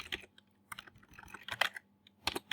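Typing on a computer keyboard to enter a text prompt, close and crisp key clicks in irregular short bursts separated by brief pauses, with no talking.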